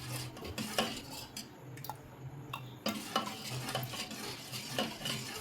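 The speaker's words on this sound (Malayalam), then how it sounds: "ഒരു 20 മിനിറ്റ് ലോ ഫ്ലെയിമിൽ ഇട്ടിട്ട് ഇങ്ങനെ ഇളക്കിക്കൊണ്ടേ ഇരിക്കുക." Jackfruit payasam being stirred in a pot over a low flame, with a spoon repeatedly scraping and clinking against the metal alongside a soft simmering bubble, close and steady, with no one talking.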